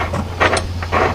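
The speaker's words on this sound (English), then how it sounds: "when you tighten it back down with the bolt" Mechanical ratcheting clicks from a wrench tightening a bolt on a Ford F-150 front suspension with a lowering kit, a few short bursts close up over a steady low hum.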